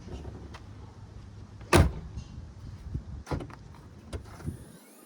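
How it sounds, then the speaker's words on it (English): The rear hatch door of a 2004 Ford Explorer opens and closes. One sharp, loud slam or latch thud stands out, followed by softer clunks and mechanical clicks over a steady low background hum. "Let's make sure the door still works with a hatch."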